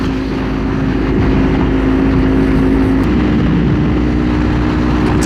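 A 2024 Kawasaki Ninja 500 cruises on the highway with a steady, fairly loud engine drone and wind roar that holds evenly throughout, with no one talking.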